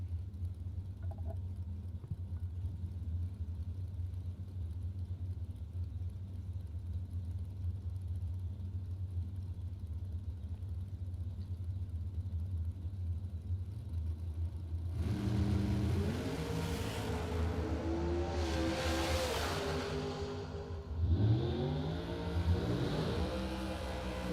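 Drag race cars at the starting line in a bracket race, a steady low engine rumble giving way to loud, revving engines that rise and sweep as the cars launch and run down the track.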